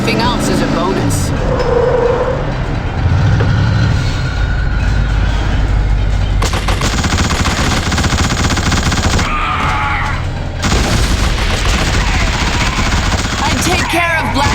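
Rapid gunfire in the PC video game The Suffering: Ties That Bind rattles in long bursts over a rumbling driven vehicle, with people talking at times.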